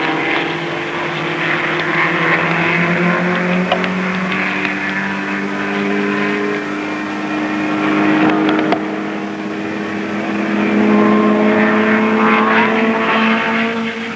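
Racing cars in a circuit race, among them a Lotus and a Venom, roar loudly with sustained engine drones rising and falling in pitch as they drive past and overlap, with no voices.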